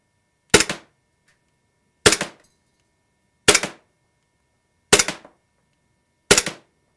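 Five sharp, loud shots from a KWA ATP gas blowback airsoft pistol, each a crisp crack with a short mechanical tail, spaced about one and a half seconds apart against near silence.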